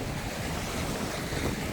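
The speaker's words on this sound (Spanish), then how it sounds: "el mar está picado" Choppy sea waves along a beach in the Dominican Republic, near Playita, make a constant dense wash of surf mixed with heavy wind buffeting the microphone.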